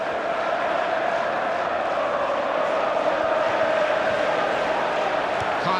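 A stadium crowd in the video game FIFA 15 during a Premier League match between Swansea and Hull City, a steady, dense roar of fans cheering throughout at constant volume.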